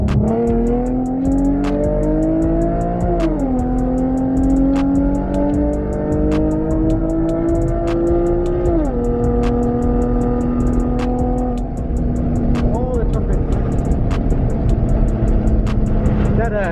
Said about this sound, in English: This is Kaushiv's freeway pull